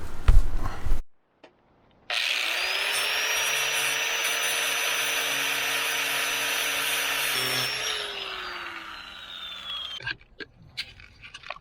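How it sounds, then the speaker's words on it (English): A power grinder strips loose rust from a van body down to bare base metal, starting after a brief clatter and running as a loud, steady whine for about eight seconds before winding down, followed by scattered clanks. "Got through the paint and primer, down to the base metal, ground out all the loose rust on top."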